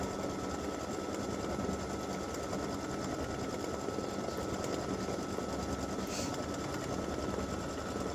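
An embroidery machine test-stitches a Valentine's mug rug, a continuous even mechanical whir with steady loudness and no pauses for the full stretch.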